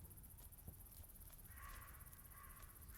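Crows cawing in the farming game We Harvest Shadows, a few harsh calls rising over a quiet ambient bed with insect-like chirring, fairly faint and distant.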